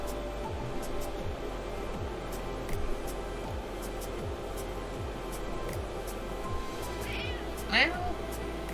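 A pet cat lets out a clear meow near the end, rising above a steady background of mechanical humming and rhythmic whooshing.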